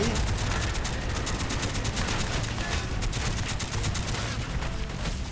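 An M60 machine gun fires in Call of Duty: Black Ops, a loud, sustained rapid burst of evenly spaced shots that runs unbroken from start to finish with no talking.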